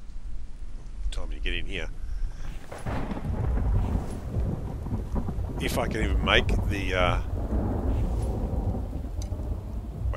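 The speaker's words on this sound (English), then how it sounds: "wait for the thunder to go." Thunderstorm with steady rain and rumbling thunder in the video game The Infected, a continuous loud wash of storm noise with someone talking over it.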